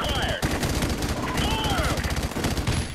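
An RPD light machine gun in Call of Duty 4 Remastered fires sustained rapid automatic bursts, loud and close, with a brief gap near the start and other game sounds mixed in.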